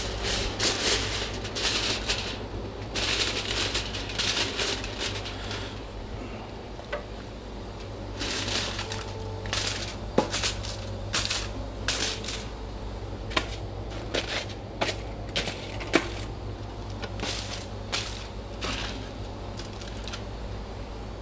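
Kitchen foil is crinkled and pressed over a pot of chicken pilau to seal it for steaming, giving repeated crisp rustling bursts, close and fairly quiet.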